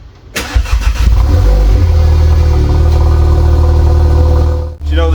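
A Ford Ka 1.3 TDCi diesel starts cold in a garage. The starter cranks briefly, then the engine catches with a loud rising rev and settles into a heavy, rumbling idle close by before it cuts off near the end.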